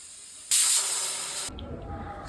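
Steam from a pressure cooker of boti curry hisses out in a sudden loud, bright burst for about a second, then drops to a lower, steady rushing release.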